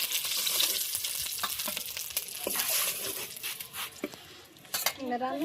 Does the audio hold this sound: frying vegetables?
yes